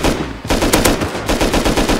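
Rapid gunfire from a weapon in the video game Rust, a loud, close burst of repeated shots in quick succession, briefly pausing before continuing.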